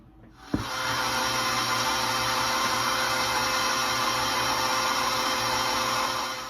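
An electric mixer running on low speed mixes dough ingredients. It switches on with a click, then holds a steady, even whirring hum to the end.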